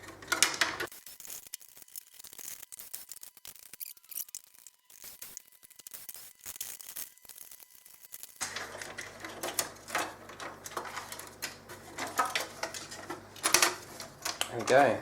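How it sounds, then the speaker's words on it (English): A Samsung CLP-510 colour laser printer chassis has a module unscrewed from it, giving soft clicking and scraping metallic handling noises. A quiet stretch is followed by busier, closer rattles and taps, with no talk. "Unscrew this module from the chassis."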